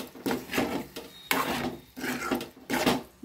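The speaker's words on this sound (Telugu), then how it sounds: "ఇదంతా కలపాలి." Tomato puree and yogurt being stirred into a curry in a pan, heard as repeated scraping, rasping strokes of a spoon against the pan in steady back-and-forth bursts, close and fairly quiet, with no talking.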